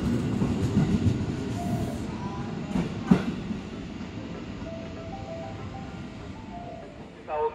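Railway noise at a busy Jakarta station as a train arrives, with a steady rumble, faint tonal signals and a brief clank near the middle, heard under a station announcement.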